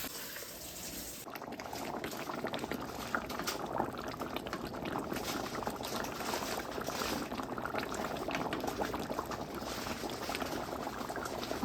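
Mutton curry with ginger bubbling steadily in a cooking pot, a continuous dense simmer and boil close by, with no talk, lasting throughout.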